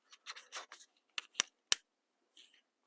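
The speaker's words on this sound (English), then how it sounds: "So let me reach in here with my snips. I'm going to cut this down here." Snips cut open a plastic model car body in a cluster of sharp snipping clicks and crunches, followed by a few isolated louder snaps, close and alone.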